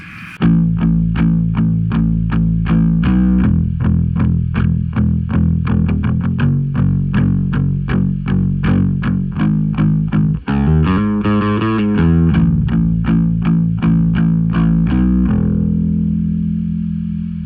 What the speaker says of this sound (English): Here's what it sounds like during the chorus when I'm palm muting and just have the distortion on